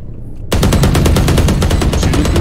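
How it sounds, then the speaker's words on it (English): Rapid automatic gunfire in the video game Valorant, shot through a wall, bursts in loudly after a half-second of quiet and keeps up a steady, dense rattle of closely spaced shots to the end. "Shooting through the wall?"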